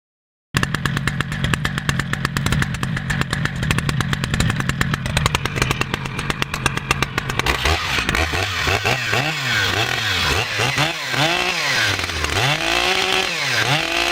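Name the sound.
new Stihl MS-881 Magnum chainsaw running during break-in test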